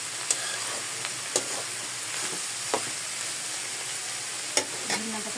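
Vegetable and egg bhaji frying in a pan, giving a steady low crackling sizzle with a few sharp clinks of a spatula scattered through, fairly quiet and with no talking.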